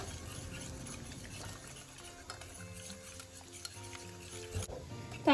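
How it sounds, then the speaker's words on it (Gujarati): Boiled dal gets whisked and mashed in a pot, giving soft rhythmic stirring, scraping and light metallic clinks that end in a louder clatter. "તો આ રીતે આપણે જે દાળ છે એને એકદમ સરસ રીતે મેશ કરી લીધી છે।"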